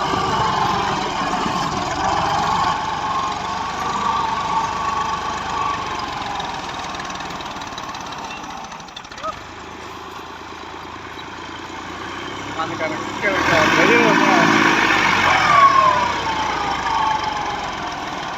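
Fiat 480 tractor hauling a 12-foot trolley over soft, unpaved ground on a slight climb; its engine drones steadily and close by, dipping midway, then swelling louder and rougher near the end.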